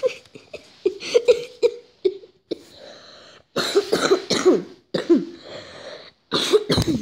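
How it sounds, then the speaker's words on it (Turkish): A person coughs repeatedly in short, close bursts, a string of harsh hacking coughs with brief pauses between them. "Bayağı bir öksürdüm."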